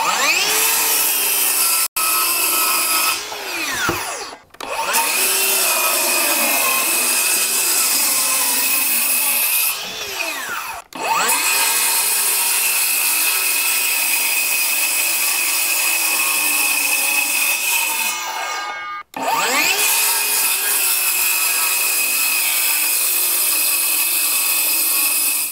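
A Ryobi ONE+ HP 7-1/4-inch cordless circular saw cuts through wood in three loud, sustained high-pitched whines, each ending in a short pause as the blade spins down and restarts, with no talking.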